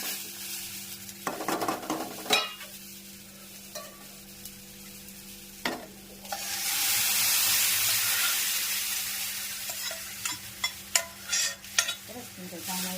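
Tempering for moong dal with tomato gravy sizzles and hisses in a pan. A spoon scrapes and clinks through it, and a louder burst of steamy sizzle swells in the middle.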